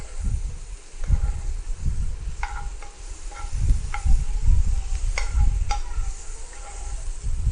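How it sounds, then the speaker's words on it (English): Onions sizzle steadily as they caramelize in a pan, a loud continuous frying hiss with occasional light clicks and scrapes from stirring. "our onion is almost caramelized"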